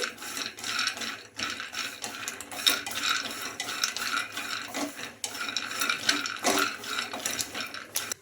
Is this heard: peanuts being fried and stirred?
yes